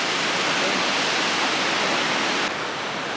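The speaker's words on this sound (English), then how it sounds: "Next stop are the waterfalls." An Icelandic waterfall roars as a dense, unbroken rush of falling water, loud and close, steady from start to finish with no voices.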